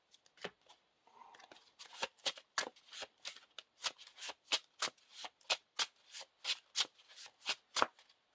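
A deck of Lord of the Rings card game cards shuffled repeatedly, a rapid run of crisp riffling bursts in a steady rhythm, close and fairly quiet, with no voices.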